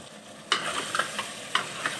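Vegetables frying in a pan for a dry fish curry are stirred, giving a steady soft sizzle with several sharp scrapes and clatters of the spoon spaced through it, close and fairly quiet.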